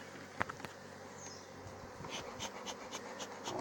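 Honeybees buzz steadily around an open hive while a beekeeper works the supers and brood nest. The hum is faint and close, with a few sharp clicks and taps of equipment.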